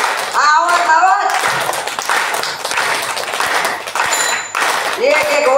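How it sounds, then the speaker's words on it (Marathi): An audience at a kirtan claps hands together in unison, with a rhythmic run of claps mixed with singing and chanting voices, fairly loud and lively. "एक समोर एक साथ टाळी वाजायची"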